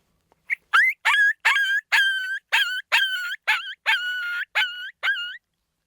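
A diaphragm howler predator call imitates a gravelly coyote pup in distress: about eleven sharp, raspy yelps and whimpers in quick, uneven succession, loud and close against silence.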